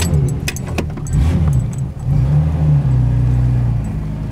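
A six-cylinder Ford Zephyr convertible drives along with a steady mid-range engine hum close by, opening with sharp metallic clicks and rattles before the engine settles into a smooth, even drone with a brief dip midway.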